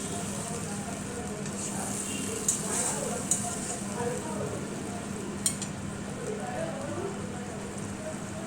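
Small fish fry in oil over a high gas flame, giving a steady, dense sizzle with occasional sharp pops and crackles, close and continuous throughout with no talking.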